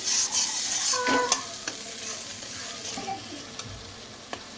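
Ground spice paste for rohu fish korma frying in a pan while a spoon scrapes and stirs it, a steady close sizzle broken by a few sharp utensil clinks, with no voices.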